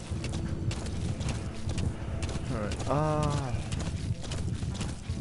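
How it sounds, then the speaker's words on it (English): Horse hooves clip-clop in a steady rhythm in Metal Gear Solid V: The Phantom Pain, moderately loud beneath continuous game ambience, with a horse whinny partway through and someone speaking briefly. "It's been a while since I've actually used the horse."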